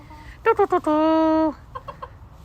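A farmyard flock of hens clucks nearby: three short clucks, then a longer drawn-out squawk, followed by softer clucking in the background.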